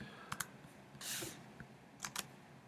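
Quiet keyboard typing: a few scattered key clicks, a brief rustle, then two more quick taps, close by.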